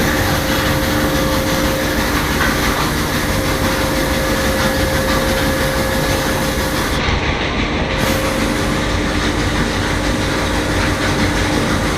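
A homemade feed mixer for grain runs steadily, a loud continuous mechanical drone with a constant hum and rattling churn that does not change throughout, with no voices.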